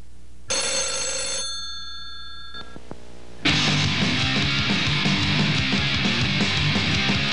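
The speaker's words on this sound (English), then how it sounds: "Phone. I'll get it." A telephone rings with a bright electronic trill for about a second, then a brief second burst follows, before a loud dense wash of music or noise takes over; no speech.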